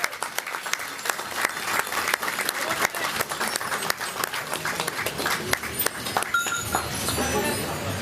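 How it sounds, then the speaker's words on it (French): Audience applause from supporters at a French town gathering, with sharp, distinct individual claps in a lively, uneven rhythm and voices talking underneath. "Chers supporters, vos applaudissements"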